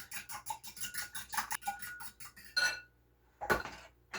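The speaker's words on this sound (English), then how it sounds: "I'm going to stir this." A spoon stirs batter with vanilla in a bowl, making rhythmic, close clinks and scrapes against the bowl, then a short pause and two final knocks.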